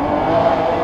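Lamborghini Aventador Roadster engine revving loud and close, a brief continuous roar with no talking over it.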